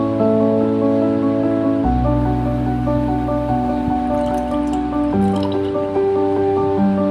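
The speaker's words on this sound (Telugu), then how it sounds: "ఇప్పుడు ఈ పాలన్నీ ఈ వాటర్లో" Chilled milk is poured into water for a Muharram sharbat, a close, steady liquid stream with a rising gurgling fill tone that shifts pitch twice as the pour continues, with no talk.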